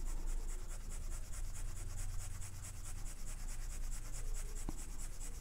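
Brown wooden colored pencil rubbing steadily across paper while shading a skin-tone layer, a close, continuous soft scratching with no talk.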